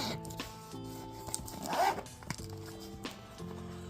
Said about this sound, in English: This zipper, nice like waterproof zipper.